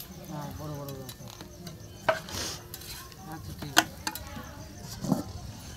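Parathas frying in a pan over a fire at a home picnic, giving a soft steady sizzle with sharp clinks of a utensil against the pan, while nearby voices talk over it.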